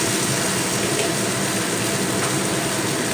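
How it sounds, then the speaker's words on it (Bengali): Hot water pours steadily and loudly into a pan of potato curry with spices, making a continuous gushing splash with no pauses. "এবারে আমি এখানে দিয়ে দেব গরম জল"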